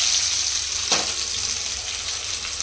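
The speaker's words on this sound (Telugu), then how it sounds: "చూడండి ఫ్రెండ్స్, ఎంత మంచిగా ఫ్రై అవుతుందో" Chicken mandi biryani fries in a pan with a steady, close sizzling hiss, broken by one quick scrape of a ladle partway through.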